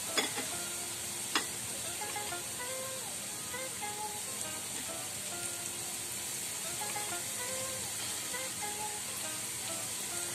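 Besan boondi batter drips through a strainer into hot oil and fries in a steady, dense sizzle and crackle. A couple of light taps from the strainer sound near the start, and nobody speaks.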